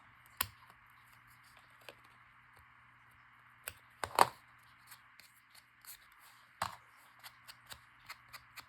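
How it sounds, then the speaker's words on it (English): Scissors trim excess paper from a dragonfly artist trading card, giving a series of short, close crisp snips and handling rustles spread irregularly through quiet background. "And I'll just trim off the excess."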